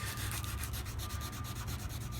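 Fine-grit sandpaper rubbed by hand against an antique metal mortise lock part, a close, continuous rasping scrape with quick back-and-forth strokes.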